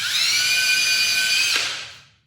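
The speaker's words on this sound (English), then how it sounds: "I'll start out and show you pre-drilling one first." A power drill whines at high speed while pre-drilling a composite deck board 3/4 inch from the end and an inch from the edge, a steady close shriek that then spins down and fades.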